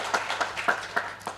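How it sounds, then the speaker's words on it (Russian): Audience at a medical quality conference plenary session applauding, a short burst of distinct, fairly sparse claps in a steady rhythm, heard alone. "Давайте также аплодисментами проводим победителя со сцены."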